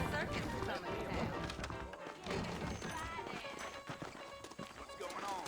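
Horses clip-clop along at a trot in the Red Dead Redemption video game, with steady hoofbeats mixed among other game sounds and voices.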